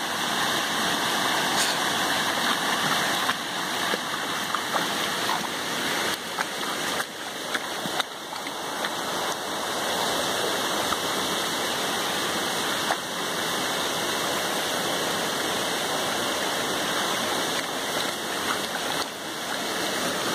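A creek flowing after a hike, water rushing in a steady, dense hiss that stays close and constant throughout, with no talk.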